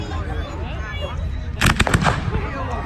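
Bonfire Night fireworks display on the 5th of November, with a run of sharp, loud bangs and crackles clustered in the middle, over steady crowd murmur and outdoor background noise.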